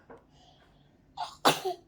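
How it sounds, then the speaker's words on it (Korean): An 8-month-old baby's small, high-pitched sneeze, a quick intake followed by a sharp burst and a short trailing squeak, close and quiet. "재채기했어?"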